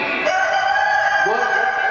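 A human voice imitates a rooster's crow, a sustained, wavering cock-a-doodle-doo call, loud and close, with no other talk, during a religious discourse.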